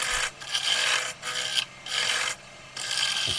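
Steady rasping strokes of a tool shaping and rounding off the body of a wooden measuring cup, in close repeated bursts with short pauses between them.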